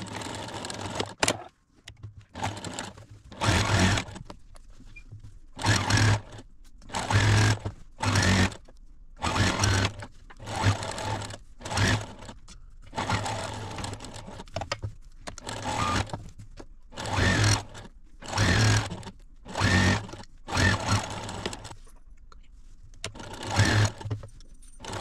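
Bursts of sewing machine stitching on a laundry bag start and stop repeatedly, each run lasting a second or two with short pauses between, close and fairly loud.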